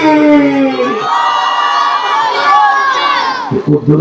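A crowd chants the slogan Nara-e Takbir in unison, loud, close voices holding a long drawn-out shout that trails into scattered cries at the end.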